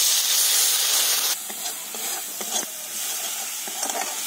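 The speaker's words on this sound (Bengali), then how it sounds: "মশলাটা কষানোর জন্য দিয়ে দেবো একটু জল।" Water poured into frying spice masala bursts into a loud sizzling hiss that quickly drops to a steadier, quieter bubbling fry with a few stirring scrapes.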